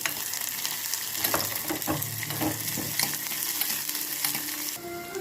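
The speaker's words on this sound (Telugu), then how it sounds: "పచ్చిమిర్చి వేస్తున్నాను, కరివేపాకు. ఇది బాగా ఫ్రై చేసుకోవాలి." Green chillies and curry leaves frying in hot oil, a steady close sizzle with scattered crackles and pops and occasional stirring scrapes, no voices.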